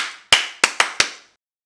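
Four sharp hand claps ring out close to the microphone, the first alone, then three quicker ones, each trailing into a short room echo.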